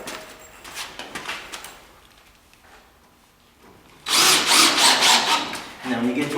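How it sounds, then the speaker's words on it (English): A power drill drives screws into a pressure-treated wood wall of a custom chicken coop: short whirring bursts at first, a quiet pause, then a loud sustained drilling run near the end. "Go ahead and switch to your blue coat screws and drive that in."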